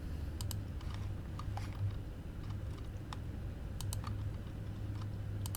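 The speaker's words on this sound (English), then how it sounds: "we're going to go ahead and just type that in" Someone types a PIN on a computer keyboard, with scattered light key clicks, a few quick pairs and single taps, quiet and close over a steady low background hum.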